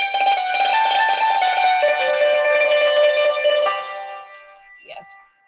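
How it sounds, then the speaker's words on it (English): Chinese hammered dulcimer struck with the hard side of the bamboo hammers for a sharper, santur-like attack: a dense, bright, rapid tremolo of metallic notes that fades out, followed by a brief faint voice. "we can change the side of the hammers to make it sharp to imitate santur, Indian santur or Middle Eastern santur."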